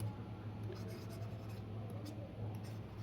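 A pen scratches steadily across paper close by as an answer is written out for a class 6 maths exercise, heard under a low steady hum.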